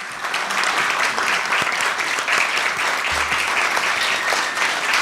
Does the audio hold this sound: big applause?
yes